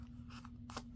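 Scissors snip through paper while a card booklet is trimmed down low, two or three short crisp cuts over a steady low hum, close by and moderately quiet.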